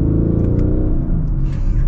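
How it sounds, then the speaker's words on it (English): Mercedes AMG GLC 63 S exhaust in race mode, a deep throaty burble rumbling steadily for under two seconds, close and fairly loud. "I love AMG exhausts. Oh, it sounds so good. Just this nice, like, throaty, burbly sound."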